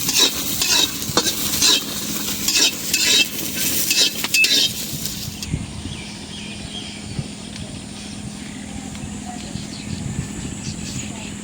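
Dried chillies stirred and fried in a pan for bhorta, a steady sizzle under repeated scraping and clinking of a spoon against the pan, with a voice talking over the first half.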